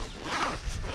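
Waterproof zipper on a Montbell Versalite rain jacket is pulled up in one quick close-up zip lasting about a second.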